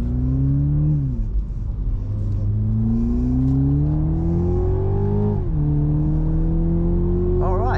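A Toyota Supra's BMW B48 2-litre turbocharged four-cylinder engine, in sport mode with manual shifting, revs up and settles repeatedly. The close, steady drone rises in pitch, drops back, then climbs again in smooth sweeps, with no talking.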